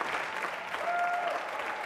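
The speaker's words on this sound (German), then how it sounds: "Und während den Tanzenden weit unten der Applaus entgegenrauscht" Theatre audience applauding ballet dancers at the end of a performance, with a dense, steady wash of clapping that holds evenly throughout.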